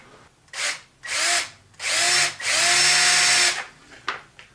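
A power drill bores a 7 mm hole in a metal bracket, whining in several short bursts of rising and falling motor pitch with brief pauses between, close and fairly loud.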